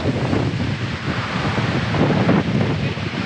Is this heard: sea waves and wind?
yes